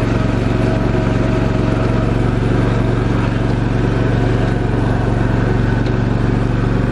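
A Kubota Z421 KWT zero-turn mower with a 60-inch Kommander Pro deck runs steadily nearby, its engine holding a constant droning hum with no change in pitch and no voices.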